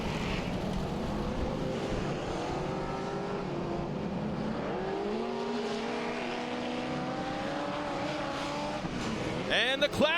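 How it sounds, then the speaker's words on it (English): Formula 4x4 off-road race cars leave the start of a 2019 MORR Series dirt race, their engines droning and climbing in pitch at a distance, steady throughout with a sharp rising whine near the end and faint voices mixed in. "the Formula 4x4 takes the green flag, and we're underway with our first race of the morning"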